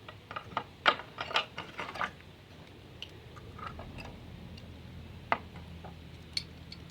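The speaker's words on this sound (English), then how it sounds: "So you're going to need a 15mm socket and a 15mm wrench" A 15mm socket and wrench working a blade bolt under the deck of a John Deere Z225/Z425 zero-turn mower, giving a quick run of close metallic ratcheting clicks and taps early on, then scattered single ticks over a low background.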